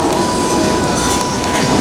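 Loud, steady rumble of a passenger train riding on its rails, heard from on board, with dense rolling wheel noise and a faint sustained whine throughout, and no talking.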